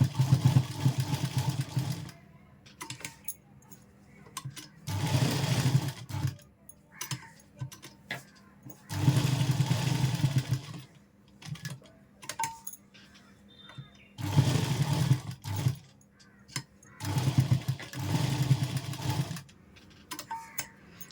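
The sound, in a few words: sewing machine stitching a puff sleeve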